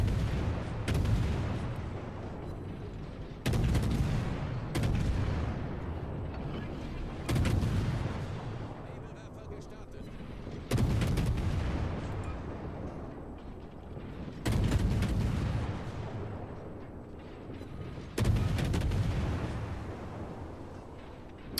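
Main guns of the Tier 10 German destroyer Z52 in World of Warships firing salvo after salvo, each a loud booming blast with a long rumbling decay, about every three to four seconds.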